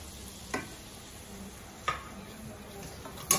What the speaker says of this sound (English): you're gonna mix it out till it's smoothing out, till it's smooth